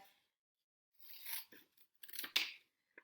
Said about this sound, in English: Just cut the bottom first.